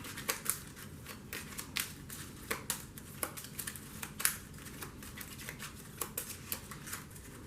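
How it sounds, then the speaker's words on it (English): Star Trek CCG cards being shuffled by hand on a table, a quiet series of soft riffles and card snaps at an uneven pace, faint and close, with no voices. "And then you're just going to shuffle these up."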